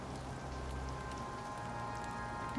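Steady rain in the survival video game Icarus, a dense even patter on a surface that holds at constant loudness throughout, with no voices.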